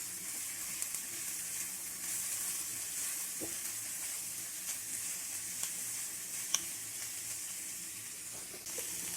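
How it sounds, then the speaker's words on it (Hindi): Chicken patty filling with chopped coriander and mint leaves is mixed in a pan, a faint steady sizzle with a few soft, scattered taps of a spoon. "अब सब चीजों को अच्छे से मिक्स करेंगे।"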